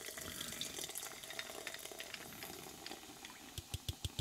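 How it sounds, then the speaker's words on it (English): Pepsi is poured into a glass, giving a faint, continuous fizzing trickle, with a few soft taps near the end. "You just gotta commit to pouring."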